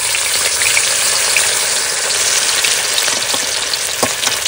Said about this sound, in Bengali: এবার মাছ ভেজে নেবো